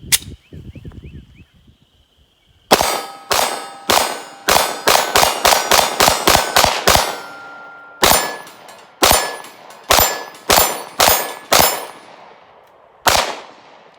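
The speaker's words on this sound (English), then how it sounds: "I want to try now and do some more rapid fire and check the recoil." Rapid shots from a Ruger 57 pistol in 5.7x28 ring off steel targets outdoors, a fast string of about ten sharp cracks with ringing clangs, a pause, then another quick string and a final shot.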